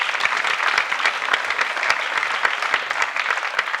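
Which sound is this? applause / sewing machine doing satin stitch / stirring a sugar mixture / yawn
applause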